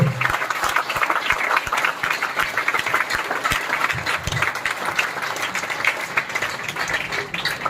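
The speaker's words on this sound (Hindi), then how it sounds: "अगर कल अपने लिए तालियां बजवाना चाहते हो तो आज मन से ताली बजा दो।" Applause from a student and parent audience at a coaching seminar in Faridabad, dense and steady clapping throughout with a few louder individual claps near the front.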